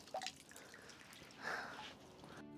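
Faint water dripping and trickling from a selfie stick, a few soft drops and a brief splashy patch against a quiet background, at Ramshej fort.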